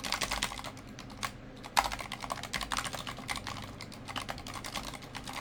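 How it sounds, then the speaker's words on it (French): Rapid clacking of keys on a Razer Huntsman V3 Pro TKL mechanical keyboard, steady continuous typing up close with a brief pause midway. "Alors, c'est un clavier mécanique"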